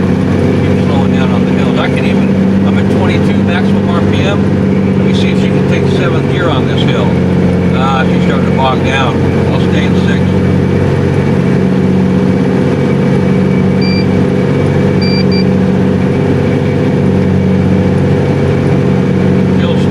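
A loaded super dump truck drives on Highway 121, its engine droning loud and steady from inside the cab for the whole stretch, with someone talking over it now and then.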